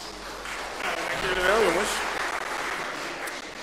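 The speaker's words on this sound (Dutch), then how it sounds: "Hartelijk applaus, alsjeblieft." Applause from the audience at a Dutch political debate on basic income welcomes a VVD politician, a moderate crowd clapping throughout while someone briefly speaks over it.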